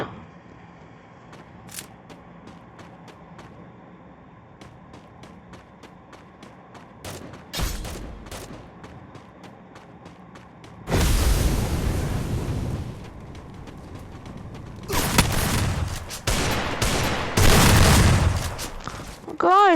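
Close-range gunfire in a video game: scattered sharp single shots, then dense roaring bursts of rapid fire that come and go with quieter gaps between them. Someone talks in the background at times.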